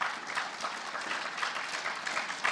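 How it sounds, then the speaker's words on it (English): A room of guests at an FFA banquet breaks into a big round of applause, a dense, even patter of many hands clapping for a few seconds at moderate distance. "Can we give those guys a big round of applause as well?"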